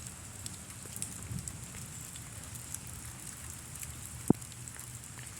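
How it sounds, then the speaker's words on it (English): Rain falls during a walk outdoors through a muddy, partly flooded downtown area, a soft steady patter with a few isolated drips and one sharp tap, and no voices. "It rains so hard, it's just muddy."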